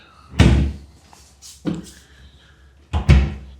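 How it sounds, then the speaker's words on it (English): Double doors in a DoubleTree Suites hotel bathroom near Disney Springs swinging shut, giving three heavy thuds spaced about a second apart, close and loud, with a soft knock between them and no talking. "double doors to close it off from the rest of the bedroom"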